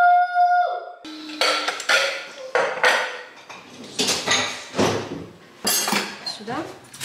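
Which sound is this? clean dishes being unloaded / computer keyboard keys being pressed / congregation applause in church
clean dishes being unloaded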